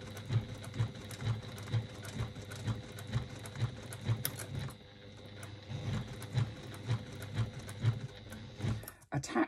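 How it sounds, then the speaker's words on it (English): Sewing machine stitching bias binding around a fabric bag, a steady rapid mechanical chatter of needle strokes running nearly continuously, close and moderately quiet, with a brief pause partway and a stop at the end. "So backstitch just at the beginning and stitch all the way around again."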